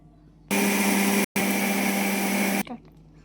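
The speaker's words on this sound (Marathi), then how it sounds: "हे दोन्ही मिक्सरला करूया." A mixer grinder grinding barnyard millet and sago roars loudly and steadily for about two seconds, stops very briefly, then runs on before cutting off, leaving a faint rattle.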